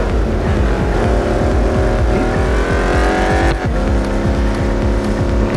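Simulated car engine from the racing game Real Racing 3, a steady loud high-revving drone with rising pitch sweeps and gear-change dips, one sharp break midway, no talk over it.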